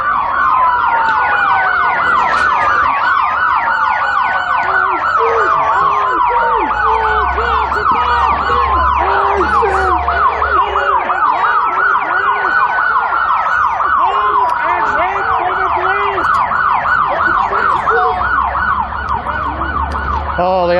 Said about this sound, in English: they have to turn the sirens off because they can't take their own sound?